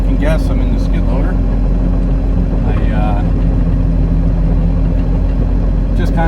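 A skid loader engine runs steadily from inside the cab, a constant low rumble filling the whole stretch while someone talks over it.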